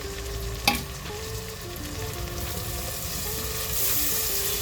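Two large, finely chopped onions sizzle in a pan for street-style Mumbai pav bhaji, giving a steady, moderate frying hiss with one sharp clink early on and no voices.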